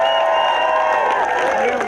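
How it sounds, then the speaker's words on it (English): Crowd at the Raphael Recanati International School class of 2016 graduation ceremony applauding and cheering, a dense, loud, steady wash of clapping with voices shouting over it. "give yourself a round of applause"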